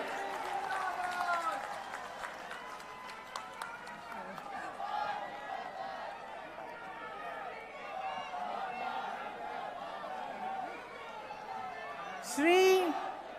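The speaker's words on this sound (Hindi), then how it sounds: "ताली बजती रहनी चाहिए।" A crowd at a politician's rally in Bastar, Chhattisgarh claps and cheers in a sustained wash of applause, with an amplified voice and scattered whoops over it, then a louder shout near the end.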